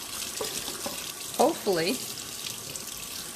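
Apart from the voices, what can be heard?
tap water running while rinsing an ink pad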